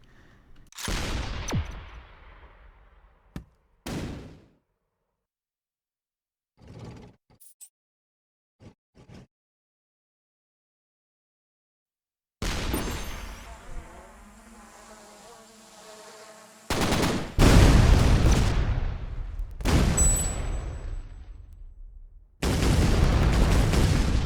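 Weapon shots in the artillery game ShellShock Live land as scattered sharp blasts and bursts, with quiet gaps between them and a denser run of loud impacts near the end, no voices.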